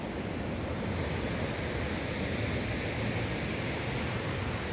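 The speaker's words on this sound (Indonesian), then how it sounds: "kita ini betul-betul di tepi laut ya. Di bawah itu laut." Sea waves wash beneath a church being built over the sea on pilings in South Nias, a steady, noisy rush of surf with no distinct breaks.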